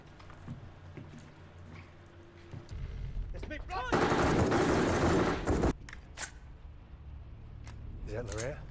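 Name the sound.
gunfire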